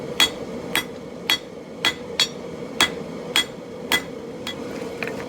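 A hammer rings against a steel spike being drawn out on an anvil while forging a tomahawk from an old ball peen hammer, nine sharp, evenly spaced metallic strikes at a steady working rhythm, close and loud.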